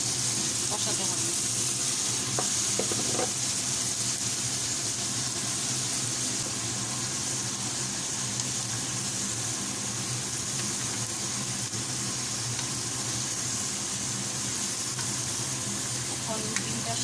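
Bottle gourd stir-fried with egg in a pan over low heat, a constant dense sizzle with a low background rumble and occasional faint clinks of stirring throughout.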